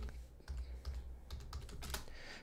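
Quick, uneven keystrokes tap on a computer keyboard, close and fairly quiet, arriving in short bursts with brief pauses between clusters of keys.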